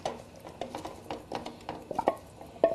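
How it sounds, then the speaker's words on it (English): A spoon stirs cubed potatoes with carrots, celery and onions in a pot, giving a series of irregular soft scrapes and clinks against the metal, close and fairly quiet, with no talking. "I'm going to stir my potatoes around and incorporate them with the carrots, celery, and onions"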